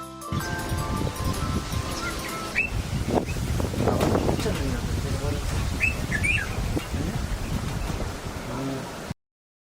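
A black-faced bulbul gives a few brief, bright chirps near the middle and later, set against wind noise and a voice in the background.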